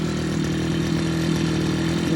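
Petrol brush cutter engine running steadily at idle, a buzzing two-stroke drone that is close, loud and constant with no talk.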